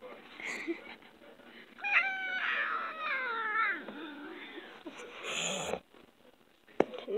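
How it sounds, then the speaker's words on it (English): A cat meows a few times in drawn-out, wavering cries, close by, over a faint background hiss. "Oh, my cat said something."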